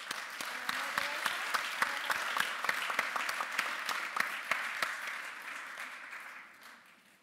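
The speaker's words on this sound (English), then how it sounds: "If you could join me in giving the panel a round of applause." A round of applause for a panel at a climate summit session, crisp individual claps within a sustained crowd clapping that gradually fades out toward the end.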